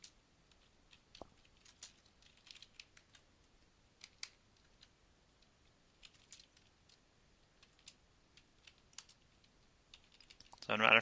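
Quiet, steady typing on a computer keyboard as credentials are entered for a router, with scattered soft key clicks across several seconds and a louder burst at the very end.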